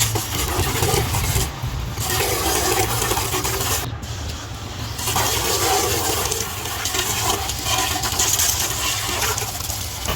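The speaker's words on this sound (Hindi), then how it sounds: "मेरे ख्याल में ये रेड हैंडल वाला स्प्रे बाइक को धोने के लिए दी बेस्ट है।" A homemade high-pressure washer with a red-handled spray nozzle blasts water steadily onto a bike, a continuous loud hiss mixed with a low motor hum throughout.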